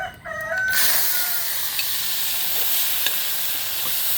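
A pan over a wood fire breaks into loud, steady sizzling and frying as bay leaf, green chili and tomato go in for biryani. Brief clatter comes first, then continuous crackle with small pops.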